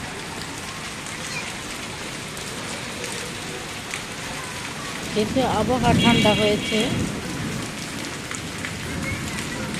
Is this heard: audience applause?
no